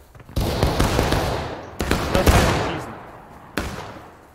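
Musket volley gunfire in the War of Rights video game: a loud ragged volley opens, followed by further scattered shots and a second burst, then another sharp report near the end, with no talk.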